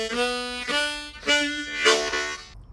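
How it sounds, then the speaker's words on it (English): A harmonica plays the opening A-part phrase of Angeline the Baker in the lower octave, a string of distinct reedy notes and chords in a steady rhythm, close and clear, with no voices, before stopping abruptly. "So the first part of the A part phrase sounds like this now."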